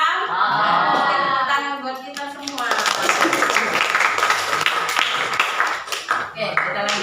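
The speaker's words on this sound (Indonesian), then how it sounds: "tepuk tangan buat kita semua" A classroom of students breaks into a burst of clapping after a math lesson, dense and close, following a voice that speaks just before it.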